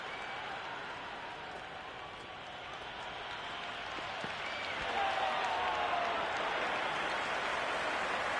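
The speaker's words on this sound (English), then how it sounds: "This is a big appeal. There is an almost tangible fervour throughout the crowd at the moment." A cricket crowd during a Test match between Australia and England, a broad, distant wash of applause and cheering that swells over several seconds in a big appeal, with faint commentary underneath.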